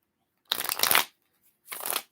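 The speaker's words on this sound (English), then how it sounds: "Well, I shuffle." Tarot cards shuffled by hand during a live reading, two quick papery riffles close up, separated by a brief pause.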